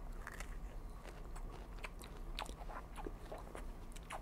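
Someone bites into and chews a Malabar plum fruit close to the mic, making soft, crisp crunches and wet chewing that run steadily with no talking.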